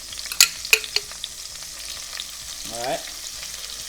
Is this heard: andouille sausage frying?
yes